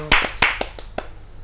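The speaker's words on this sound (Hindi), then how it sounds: "जोरदार तालियों से स्वागत कीजिए अमित बेनाम जी" Sparse hand claps from an audience welcoming a poet onto the stage at a Hindi poetry gathering, a handful of sharp separate claps that thin out over a second and a half.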